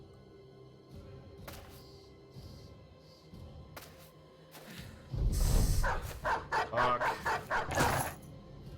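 War dogs barking in the video game Battle Brothers, a rapid run of loud, overlapping barks that breaks out after a quieter stretch of game sounds, with a single brief spoken word.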